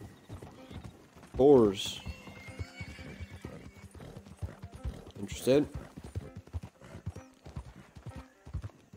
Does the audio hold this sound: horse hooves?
yes